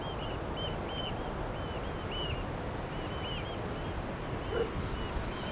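A steady broadband roar of water rushing over a reservoir dam overflow in Scotland fills the scene, with high oystercatcher calls chirping repeatedly over the top throughout.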